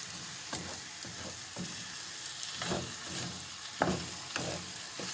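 Rice for a Cameroonian-style risotto is stirred in a pan, a steady bed of soft sizzle broken by repeated scraping strokes of the spoon every half second or so, close and moderately loud, with no talking.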